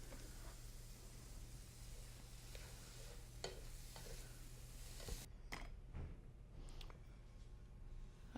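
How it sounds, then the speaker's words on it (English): Steady broadband sizzling of vegetables sautéing in a pan, with a few clinks and stirring scrapes over the hiss and a low background hum. "can hear it all sizzling away now"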